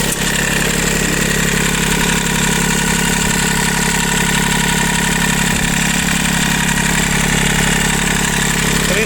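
A Mitsubishi MT-185 three-cylinder 4WD mini tractor of about 20 horsepower idles steadily, a smooth, even, close engine hum with no stray knocks, continuous throughout.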